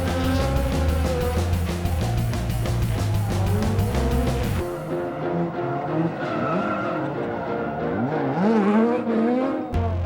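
A race car drifting shrieks with loud tire squeal and a droning engine, the skid sustained for several seconds before cutting off, leaving a revving, warbling engine note that rises and falls as the car slides on.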